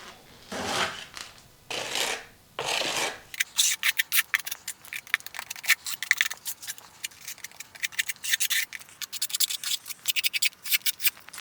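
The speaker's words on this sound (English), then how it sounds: "Now we're just going to apply it throughout all the joints and where all we put the mesh tape." A 4-inch drywall knife spreads joint compound over mesh tape at a bathroom wall seam beside new tile: three long smooth swipes, then a quick run of short, rhythmic scraping strokes, close and alone.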